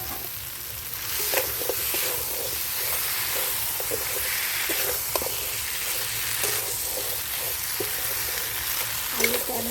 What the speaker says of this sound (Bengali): যেহেতু ক্যাংড়াটা দিয়েছি একটু সময় ধরে ভালো করে আমি কষে নিই